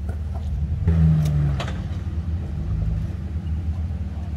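A Jeep climbs a hill off-road with a steady low engine rumble and a brief surge of revving early on, staying close and fairly loud throughout.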